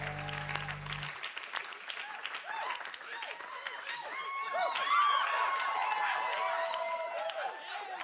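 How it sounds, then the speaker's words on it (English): A studio audience at a comedy talk show breaks into sustained applause mixed with cheering and crowd chatter. The clapping builds a little midway and stays loud and dense throughout, with a voice briefly heard at the start. "If I just stand here, will you keep applauding?"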